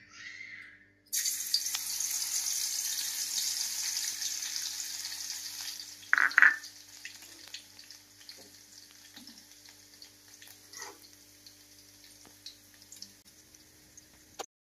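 Garlic drops into hot oil and fries with a loud, sudden sizzle that settles into a steady hiss, then fades to quieter crackling punctuated by a brief clatter.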